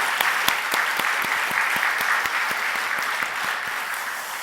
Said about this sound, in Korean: 우리 다시 한번 힘차게 박수